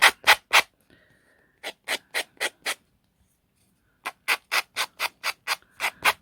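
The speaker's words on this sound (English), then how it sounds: "Sanding sponge or sanding block." Sanding sponge rubbing the edges of paper tags in quick rhythmic strokes, three short groups of sharp scratchy swipes with pauses between them, close and clear.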